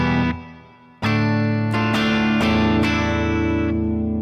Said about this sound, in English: The next one is a clean FX tone.